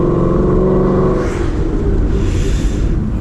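A 2019 Ford Mustang GT accelerates up to 40 mph with a close, loud engine rumble and a steady rising whir, heard alone.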